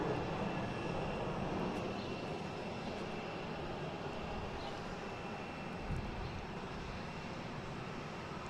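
At Boston Logan International Airport, a jet airliner's engines produce a steady, broad roar that holds at a fairly even level from start to finish, with no voices present.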